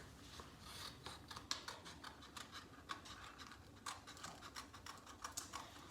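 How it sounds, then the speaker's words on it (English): Scissors snip through paper while cutting out circles for a kids' spinning Nerf target craft, a steady series of close, crisp rasping cuts and scratches, with no voices. "Okay, so he's gonna cut out the circles."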